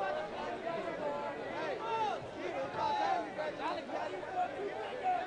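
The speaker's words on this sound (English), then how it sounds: "There's such a large crowd," A large crowd chatters at an amateur baseball game, a dense steady babble of many overlapping voices nearby, continuous and moderately loud with no single speaker standing out.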